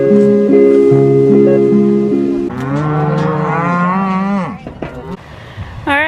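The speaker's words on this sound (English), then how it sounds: "They still make a living off them good old cows." Ranch cattle moo in several long, loud, close calls, one after another, with the lowing rising and bending in pitch before trailing off near the end.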